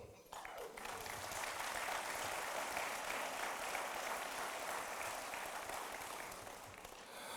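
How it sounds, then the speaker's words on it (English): A graduation audience for craftspeople apprentices at a 2019 Bellevue ceremony breaks into sustained applause, dense clapping swelling quickly and holding steady before tapering slightly at the end. "They deserve a big round of applause for what they do."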